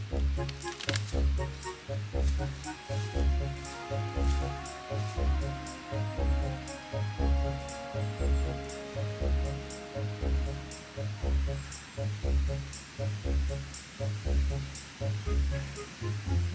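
A very cold river in November, flowing steadily with a continuous watery rush, mixed with a loud rhythmic low thumping pattern throughout; no voices.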